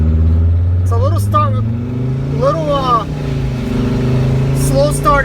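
A Mercedes Sprinter van with its muffler cut off and a cold engine pulls away under turbo boost, its low exhaust drone steady and loud while someone talks over it.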